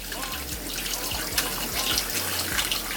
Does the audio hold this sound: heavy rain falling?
no